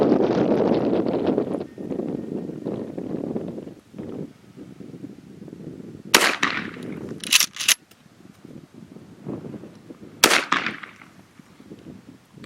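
Gunshots from a tube-loaded gun on an outdoor range, with several sharp cracks spaced apart over heavy wind buffeting the microphone.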